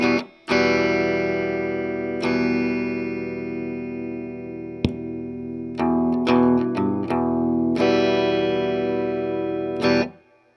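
A sustained electric tone played through a DIY low-pass filter box fitted with a larger capacitor, with muffled bass-heavy ringing notes broken by clicks and brief retriggered bursts, heard alone without talk.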